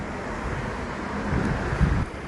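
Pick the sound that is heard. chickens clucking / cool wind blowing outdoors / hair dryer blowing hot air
cool wind blowing outdoors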